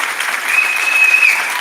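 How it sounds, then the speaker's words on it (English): A crowd applauds a nursing lectureship committee as its members stand, a steady loud wash of clapping with a thin sustained whistle riding over it, no voices. "give them a wonderful round of applause"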